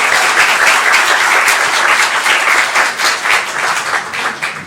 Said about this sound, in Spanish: Recibamos con un fuerte aplauso entonces a nuestro siguiente ponente.